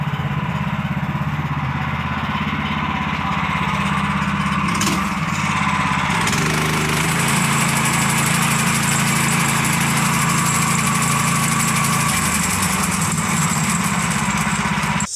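Lawn mower engine running steadily up close and loud, with a rough rubbing, knocking blade noise and a brief change in pitch partway through, no talking.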